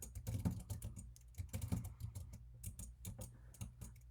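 Fast typing on a computer keyboard, a quick irregular run of close, soft key clicks and taps heard alone at low level.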